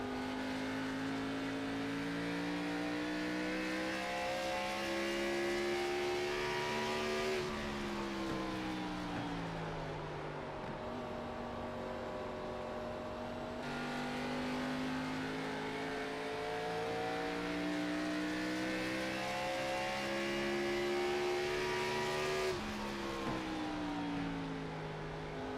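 Race car engines scream continuously from an onboard position, revving up in long rising sweeps, dropping sharply at each gear change or braking point, then climbing again, steady and dominant throughout.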